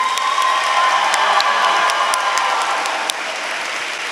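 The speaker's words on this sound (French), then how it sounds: "on peut leur donner une belle main d'applaudissement tout de suite." A school graduation audience applauds adapted-education students with a steady wash of clapping and some cheering, fairly loud and continuous, settling slightly near the end.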